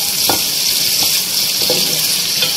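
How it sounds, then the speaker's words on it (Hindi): Two medium onions, finely chopped, fry in hot oil, giving a loud, steady, close sizzle with a few soft stirring scrapes at irregular intervals, no voices. "इसको हमें अच्छे से फ्राई करना है इस ऑयल के अंदर"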